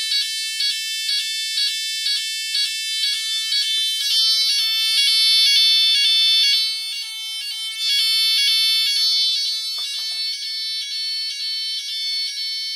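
A Legrand ECS 206 25 fire alarm system sounding its AFNOR evacuation tone with a simple detector: a loud, piercing electronic pulse repeating in a steady fast rhythm, close and unbroken throughout.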